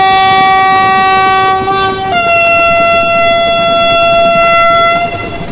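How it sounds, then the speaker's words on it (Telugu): A diesel locomotive horn on the Visakhapatnam route in Trainz Simulator sounds one long, loud, sustained multi-tone blast. Partway through it shifts to a second chord and holds steady, with no voices. "వా బ్యూటిఫుల్ హార్న్ చూడండి."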